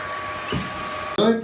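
A Xiaomi G20 Lite cordless stick vacuum cleaner runs with a steady, close electric whine and hum, briefly interrupted near the end, while someone speaks over it.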